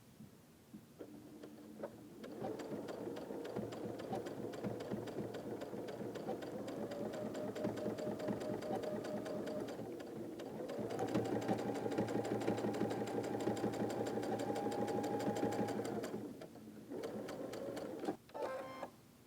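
A domestic sewing machine runs steadily while stitching a quilt block seam, a continuous whirring motor hum with a brief pause near the middle before a second sustained run and a short final burst, close and alone without talk.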